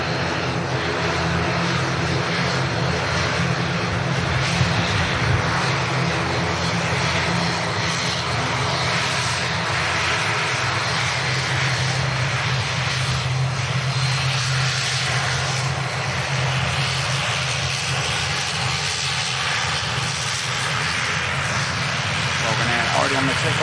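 An ATR turboprop airliner at Manchester Airport drones loudly and steadily, its propeller hum holding throughout while people talk over it.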